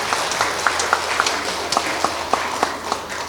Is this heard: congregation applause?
yes